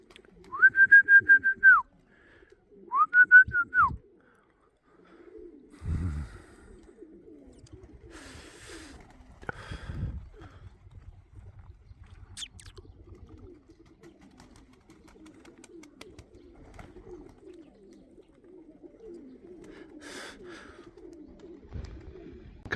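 Two short whistled tones sound at the start, followed by soft cooing, wing flaps and low murmuring pigeon calls at close range.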